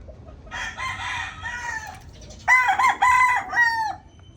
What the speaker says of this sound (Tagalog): nagpapaligo si Alex ng mga manok